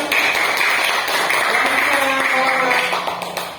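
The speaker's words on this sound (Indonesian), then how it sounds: "Oke, tepuk tangan." A classroom group claps hands together in sustained applause, a dense, even patter holding steady for several seconds before thinning out at the end.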